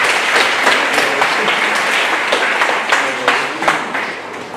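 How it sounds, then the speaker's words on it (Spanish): Sustained applause at a wedding celebration honoring the newlyweds, steady crowd clapping with scattered louder claps, fairly loud and continuous throughout. "Damos un aplauso a estos nuevos esposos, Ulises y Adriana."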